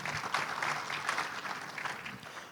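An audience at a leadership forum on AI and people skills applauds a speaker, a soft, steady patter of many hands heard from a distance for a couple of seconds.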